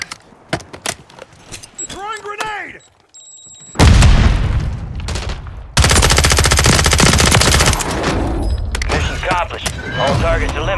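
Call of Duty Warzone match: a thrown grenade bursts loudly, then sustained close machine-gun fire rattles on with further shots and booms, after a quieter stretch of small game sounds and a brief voice.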